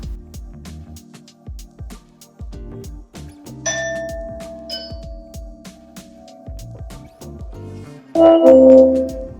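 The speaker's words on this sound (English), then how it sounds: "next time that person comes and rings your doorbell" A Google Nest Hello video doorbell chimes a couple of tones, clear and close, over a busy background of clicks and low knocks, then a louder ding-dong near the end.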